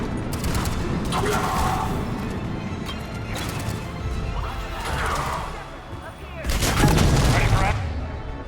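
Turret gunfire rattles in the Mass Effect 3 video game, coming in several loud bursts of crashing shots with impacts, separated by brief lulls, with a closing burst heavier than the rest; people talk over parts of it.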